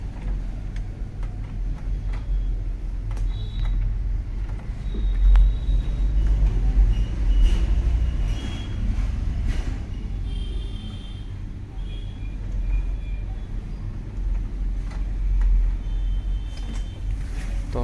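An Epson L8050 inkjet printer feeds and prints a PVC Aadhaar card, giving a steady low mechanical hum with faint ticking carriage clicks that runs continuously through the whole stretch.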